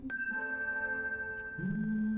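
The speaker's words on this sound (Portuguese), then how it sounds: "Um sino, tocar." A bell in the video game Season: A Letter to the Future is struck once, giving a soft ring with a long, steady shimmering tone, while a low hum swells near the end.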